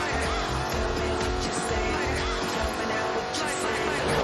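Jaguar Project 7 driven in the racing game Forza Horizon 4, with a loud, steady engine roar and rumbling low revs running throughout, heard beneath a narrating voice.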